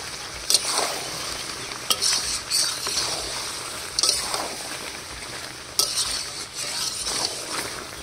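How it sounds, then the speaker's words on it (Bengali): Duck meat and cut potatoes are stir-fried in a village-style curry, with a steady close sizzle broken by repeated scraping strokes and metallic clinks of a spatula against the pan. "মাংস কষিয়ে নিয়েছি, এবার কেটে রাখা আলু এখন দিয়ে দেবো। দিয়ে আর 2-5 মিনিট কষিয়ে নেব।"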